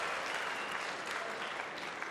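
A crowd at a Mosconi Cup pool match applauds with steady, dense clapping that fills the whole short moment at a fairly soft level.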